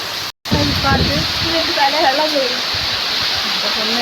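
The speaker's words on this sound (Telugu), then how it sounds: "చల్లగా గాలి పడుతుంది, వాన." Constant rushing hiss of rain and wind, fairly loud, with a person talking over it.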